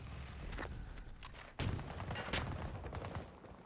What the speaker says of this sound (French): Là, du coup, ça tire beaucoup.